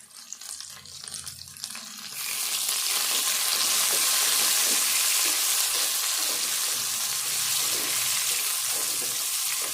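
Ridge gourd frying in hot oil, a steady loud sizzle that swells after a quiet start and holds with light stirring sounds.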